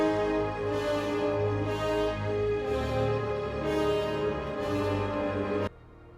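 Dense, layered orchestral tones carry the medieval Dies Irae requiem chant melody in long sustained phrases, loud and full, ending in an abrupt cutoff with no voices present.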